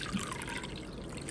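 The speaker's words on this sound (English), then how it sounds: "I'm going to add a little bit of water into this glass" Water trickles steadily into a glass holding store-bought passion fruit pulp, a soft, close, continuous pour with no talking over it.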